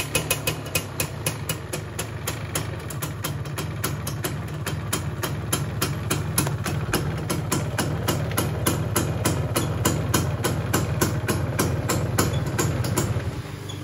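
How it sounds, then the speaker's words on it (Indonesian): A Yamaha F1ZR motorcycle engine idles close by with a fast, even, pulsing putter that holds steady throughout, with no voices over it. "kalau kondisi mesinnya teman-teman segini masih lumayan halus ya"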